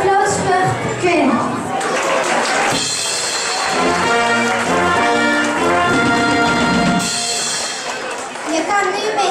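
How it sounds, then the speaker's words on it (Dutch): Crowd at a youth carnival session in Mheer cheering and applauding loudly, with children's voices and chatter mixed through the steady noise. "Geef een groot applaus voor Quinn."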